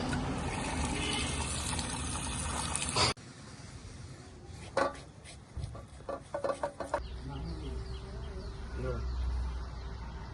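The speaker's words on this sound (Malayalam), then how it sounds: "ഗായ്സ് ചിക്കൻ കഴുകാൻ പോവാണ്." A kitchen tap gushes loudly while raw chicken is washed, then shuts off abruptly, giving way to clattering and knocking of the meat and bowl before the water starts again more softly.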